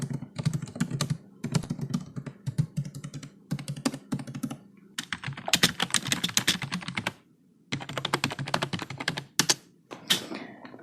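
Typing on a Xiaomi MIIIW keyboard: rapid, dense bursts of clacky keystrokes close to the microphone, broken by short pauses, with no talking.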